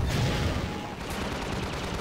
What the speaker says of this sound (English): Stop shooting my shit down.